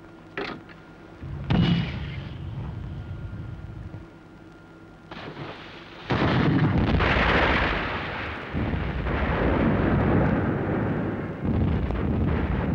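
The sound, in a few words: depth charges exploding underwater, film sound effect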